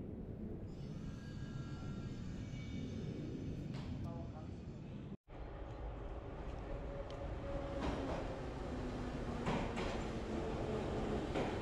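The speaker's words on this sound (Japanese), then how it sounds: "はい、電車やってきました。" A metro train rumbles into a station in Yerevan, Armenia, its steady roar building with squealing and clanking as it slows, with station ambience and faint voices.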